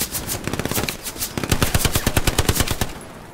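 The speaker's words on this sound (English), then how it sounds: "This guy is shooting from right here." Gunfire in the military shooter game Squad, from rapid machine-gun bursts with a few single shots to a dense, loud automatic stream, then trailing off.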